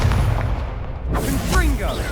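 A Confringo fire spell goes off in a Harry Potter wizard video game, booming blasts over a dense game soundscape, with a voice talking over the action.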